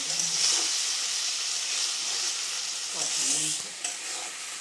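Chicken curry made with green chillies cooking in a pan, a steady broad sizzling and bubbling hiss running throughout at close range, with faint stirring knocks and no talk.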